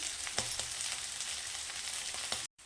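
Potatoes, peas and onion fry gently on low heat with a soft, even sizzle and faint crackle, dotted with a few light stirring ticks before a brief drop to silence near the end.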